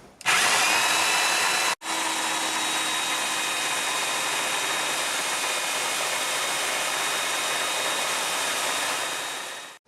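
A handheld power tool sands the cork grip of a homemade fly rod, spinning up with a whine, cutting out briefly, then running continuously at a steady high pitch before winding down.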